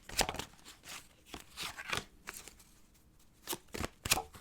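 A tarot deck is shuffled up close in a series of sharp, papery riffles and slaps, irregular in rhythm and fairly quiet, with no voices over it.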